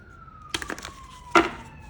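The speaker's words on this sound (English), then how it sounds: "Got a siren." An emergency siren passing outside, a faint steady wailing tone drifting slightly downward in pitch, heard distantly behind nearby tapping and handling knocks.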